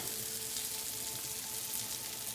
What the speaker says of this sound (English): I'm going to try to flip these onions a little bit so they don't get too done on one side.